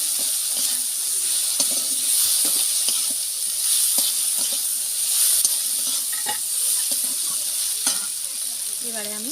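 A mustard and poppy seed paste sizzles in a hot pan while making an okra dish, with a continuous frying hiss and repeated sharp scraping and stirring clicks close by.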